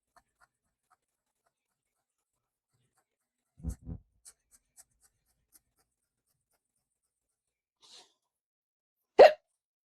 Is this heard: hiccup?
yes